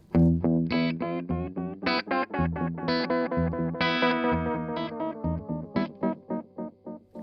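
An electric guitar runs through a Universal Audio UAFX pedal, giving a distorted, effect-heavy tone as a busy phrase of separate picked notes and short chords plays alone, steady and close.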